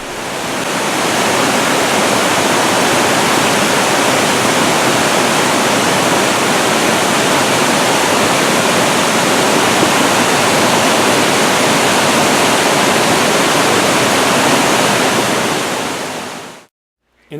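A waterfall swollen by heavy rain roars as a loud, steady, dense rush of falling water, unbroken and alone until it cuts off abruptly near the end.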